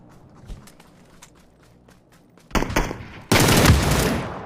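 Faint scattered pops and clicks in the video game PUBG, then a sudden loud burst of rapid automatic gunfire that rises into a dense, sustained roar of shots.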